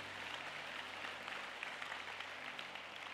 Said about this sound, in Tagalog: Atong hatagag puso nga palakpak ang Holy Spirit of God.